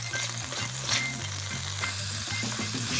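Pancetta sizzles and crackles in one corner of a cooking pot for creamy chicken, steady frying with occasional sharper pops and a low hum underneath, close up.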